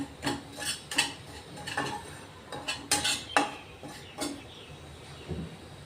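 Semolina dry-roasted without ghee in a pan, stirred with a metal spoon that knocks and scrapes the pan in a steady rhythm of repeated clinks, close and moderately loud.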